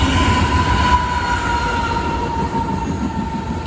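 CN Woodstock Local freight train with an H1 leader rolling past close by, a steady loud rumble of wagons with a sustained high wheel squeal, no voices.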